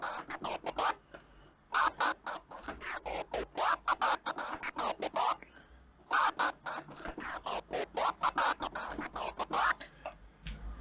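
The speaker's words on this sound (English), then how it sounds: "And then these are swung transformers." DJ turntable transformer scratches in a swung rhythm, the chopped bursts coming in uneven, lilting groups, played twice with a short break between phrases, close and dry with no talking.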